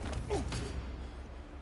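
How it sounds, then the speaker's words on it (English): A door creaking open in the video game Horizon Zero Dawn, a short groaning creak over a low ambient rumble, close and moderately loud. "This blasted door!"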